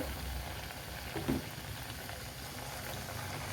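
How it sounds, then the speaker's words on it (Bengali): Thekua fry in hot oil over a low flame, a continuous bubbling sizzle with a brief louder spurt near the start as a piece goes in, steady and close. "এবার আমি একটা একটা করে ছেড়ে আস্তে আস্তে ভেজে নেব"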